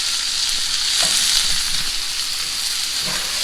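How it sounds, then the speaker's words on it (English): Onions sauté over medium heat in a pan before meat is seared for a slow-cooker pot roast, a constant loud sizzle with occasional stirring knocks. "you want to saute and cook these onions on like medium for probably about 5 minutes"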